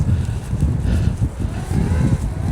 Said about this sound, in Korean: 바람이 갑자기 거세졌어요